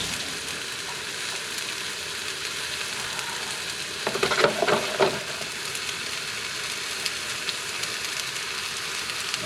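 Fried rice frying in a pan, a soft continuous sizzle with a brief louder burst of crackling and stirring midway.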